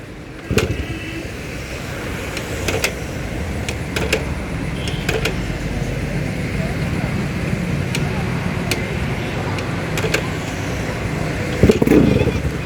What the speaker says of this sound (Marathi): भावांनो पांडू मिस्त्रीला आपण बोलून घेतलेला आहे गाडी चालू करण्यासाठी